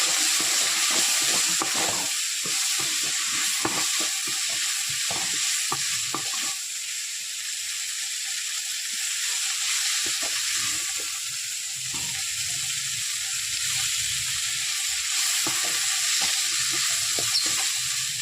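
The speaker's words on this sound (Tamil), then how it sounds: "இந்த டைமில் கொத்தமல்லி போட்டு நல்லா கலரிக்கலாம்" Dried anchovies (nethili karuvadu) fry in a pan with coriander leaves added, giving a steady close sizzle with repeated scraping stir strokes that run the whole time, no talking.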